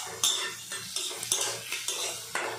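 Cumin, green chilli and onion frying in oil in a kadai, a light sizzle broken by a string of sharp metal spoon scrapes against the pan at a steady stirring rhythm, close up.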